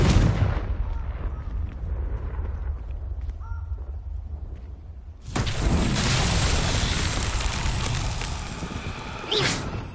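A Confringo blasting spell in Hogwarts Legacy opens with a loud burst, fades into a rumbling lull with faint game sounds, then a second big roaring blast swells up and holds until the end.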